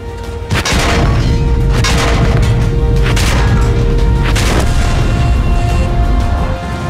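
Heavy-damage tank hit from World of Tanks: a sudden loud boom followed by rumbling, explosive crashes and ringing metal over a thick, continuous battlefield roar, close and powerful.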